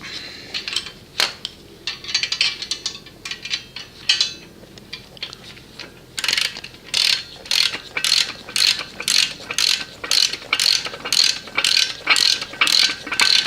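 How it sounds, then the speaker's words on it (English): A nylock nut tightened onto a Jungle Jims mower lift with a ratchet wrench: scattered clicks and handling noises at first, then a steady run of rapid, close, evenly spaced ratchet clicks to the end. "we'll take our nylock nut and tighten that up"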